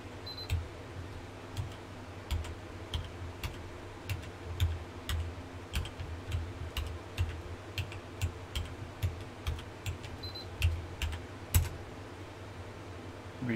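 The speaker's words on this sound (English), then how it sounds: "so I'm going to try to type that in." Keys tapped on a computer keyboard while entering a root password during a FreeBSD 11.1 server install, a slow, uneven run of crisp clicks over a steady low fan hum, close and alone without talk.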